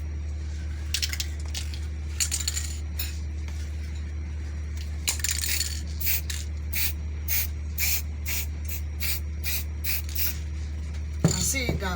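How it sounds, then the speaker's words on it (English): Spray paint hisses onto a fabric fascinator hat in a series of short bursts of varying length, repeated bursts grouped toward the middle and later part, over a steady low hum, fairly close. "You can decide to spray all, like I sprayed the fascinator"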